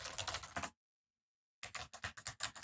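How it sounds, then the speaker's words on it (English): Rapid keystrokes on a computer keyboard as a password is entered, a close burst of clicks, a pause of silence, then another quick run of taps. "type in our password"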